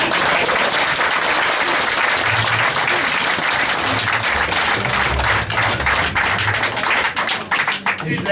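A concert audience at a Hungarian men's choir performance claps loudly and steadily, the sustained applause filling the hall, with faint voices underneath.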